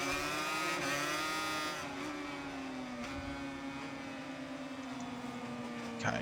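A motorbike in a racing game at Le Mans accelerates hard out of a chicane, its engine whining at a high, steadily rising pitch, loud and close, with no pause throughout.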